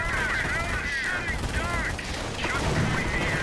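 Strafing-run machine-gun fire in a WWII strategy video game: fairly quiet rapid bursts of automatic gunfire with whooshing sweeps passing overhead, repeating in a few waves against a background battle rumble.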